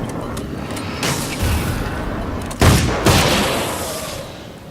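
Gunfire in the horror action game Alan Wake's American Nightmare: a few scattered shots with loud booming reports, the two heaviest close together near the end, each trailing off into a low rumbling decay.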